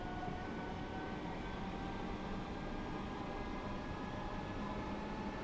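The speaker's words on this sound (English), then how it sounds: "I'm not normally a fan of electrics, but if they sound this good, I approve." Electric train in Train Sim World 3 on the East Coastway line, heard as a steady, even rumble and hum of traction running continuously throughout, with no voices.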